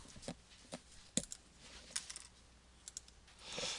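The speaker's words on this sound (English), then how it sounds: "I'm going to clear out this data and I'm going to type in my summary values." Sparse keyboard clicks as summary data values are typed on a computer keyboard, a few isolated taps spread across a quiet background with a slightly louder cluster near the end.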